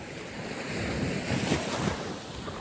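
Gentle sea waves wash steadily onto a beach in San Juan, La Union, a continuous near surf with a soft swell in the middle and wind rushing across the microphone, with no talking.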